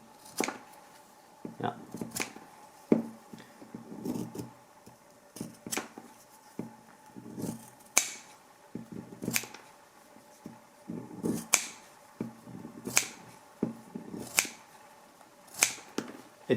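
Swissors scissors slice through thick 2.2–2.3 mm vegetable tan leather in a steady run of sharp, close crunching snips, spaced roughly a second apart, with only a brief word spoken.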